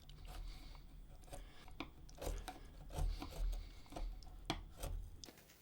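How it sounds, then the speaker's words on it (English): A Narex crank neck chisel pares wood on a guitar build with a quiet series of short scraping strokes and light ticks, irregular and close, faint overall with no talk. "I'm going to take my crank neck Narex right here, and we'll creep up on this."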